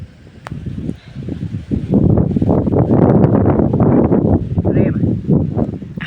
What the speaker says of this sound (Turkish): Biraz kesesin bu rüzgar artık yeter.